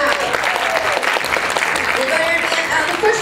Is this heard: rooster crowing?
no